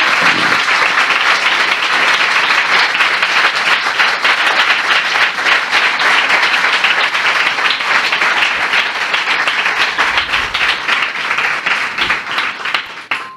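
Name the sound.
congregation applause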